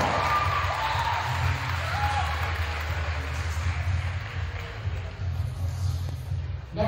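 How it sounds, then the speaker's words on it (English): Applause fills a high school gym during senior recognition at a Shenango vs Sewickley Academy women's varsity basketball game, a steady, moderately distant wash of clapping with crowd murmur and low rumble throughout. "How about a round of applause for super senior Madison Iwanico?"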